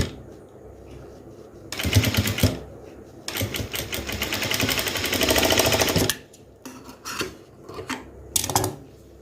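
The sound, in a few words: sewing machine stitching a crop top puff sleeve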